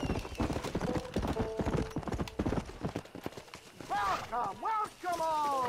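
Rapid horse hoof clip-clops in the video game Red Dead Redemption under steady speech, followed by a horse's whinny and snorts with continued talking.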